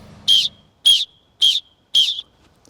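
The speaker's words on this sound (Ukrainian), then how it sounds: "Оце свісток буквально за 35 гривень може врятувати вам життя." Four short, loud blasts from an emergency rescue whistle, a cheap survival whistle for signalling rescuers to someone trapped under rubble, evenly spaced and shrill, with nothing else around them.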